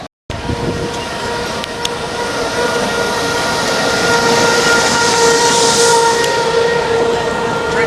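A boardwalk tram car in Wildwood, New Jersey rumbles steadily nearby with a low drone and faint whistle tones, growing slightly louder as it passes; no talking.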